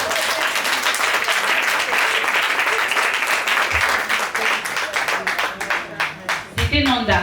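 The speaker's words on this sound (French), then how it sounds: "Merci, applaudissez pour vous" A crowd of women at a Gabonese Women's Day celebration applauds steadily and loudly for several seconds, fading out near the end as a voice speaks over the last moments.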